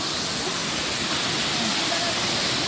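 Changey Waterfall in Kalimpong roars with a constant, dense rush of falling water, loud and close, a steady broadband wash with no break.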